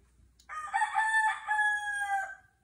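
Wild rooster crowing early in the morning, a single long, loud, close cock-a-doodle-doo that rises and holds for about two seconds over a quiet background.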